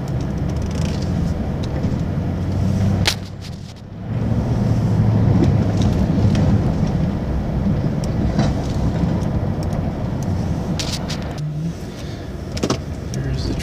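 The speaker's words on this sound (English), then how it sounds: "There's the tractor going." A tractor engine runs steadily through the whole stretch on a snowy day of plowing, a loud, continuous low rumble close by that briefly dips once before resuming.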